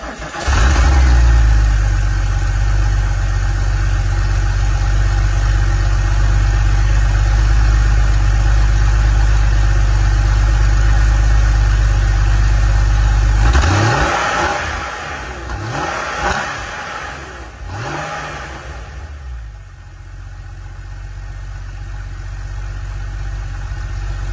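A 1996 Porsche 911 Carrera 2 Cabriolet with 341k miles idles loudly and steadily up close for about fourteen seconds, then blips its engine in several short revs before settling back to a low idle.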